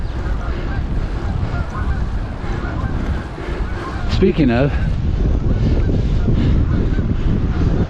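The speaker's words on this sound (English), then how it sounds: "Hello, Canada geese." Canada geese give a short burst of honking calls at mid distance beside a trail, heard over steady wind noise and a faint voice.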